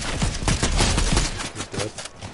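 Gunfire in the video game Fortnite: loud, dense bursts of rapid shots fired in quick succession, close and continuous for a couple of seconds, with no talking.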